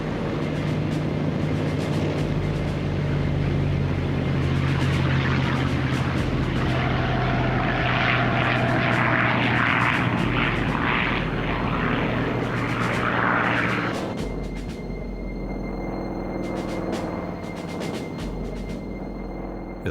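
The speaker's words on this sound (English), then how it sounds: "after a final briefing, the first wave of Japanese aircraft took off" Japanese WWII propeller aircraft taking off, a loud continuous engine drone with rising roar as planes pass close, then easing to a steadier, slightly quieter hum.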